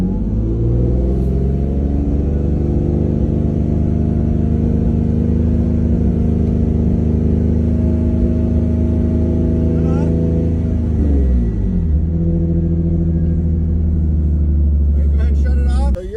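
A car with an aftermarket catback exhaust is held at 3,500 RPM, giving a loud, steady droning roar that drops back as the throttle is released near the end and settles into a lower rumble.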